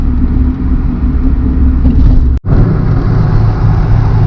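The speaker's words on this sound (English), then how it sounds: "There is a lot of wind noises in this car." Steady wind roar and road rumble fill the cabin of a moving 1980s Nissan EXA Pulsar NX with cracked seals, a loud continuous drone broken by one brief dropout midway.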